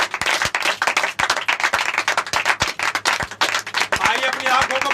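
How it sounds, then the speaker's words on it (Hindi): A congregation at a Hindi church worship service claps loudly in praise of God, with a steady stream of sharp, uneven hand claps filling the space throughout at close range and no clear talk over them. "एक बार जोरदार ताली बजाएं परमेश्वर के लिए"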